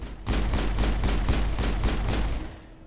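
Rapid bursts of gunfire in the sci-fi shooter Mass Effect, roughly ten sharp shots in a fast steady rhythm, loud and close, with no voices over them.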